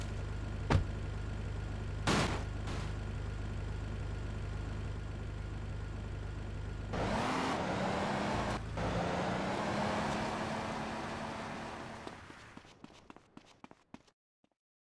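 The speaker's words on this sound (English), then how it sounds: "Driving around the block, okay?" Car driving around the block in GTA Vice City, a steady low engine hum with road noise that shifts and rises midway, then fades out toward the end.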